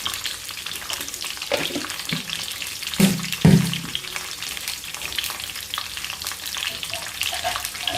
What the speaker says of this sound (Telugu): ఇది బాగా నూనెలో వేగాలి.